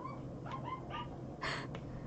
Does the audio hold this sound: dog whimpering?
yes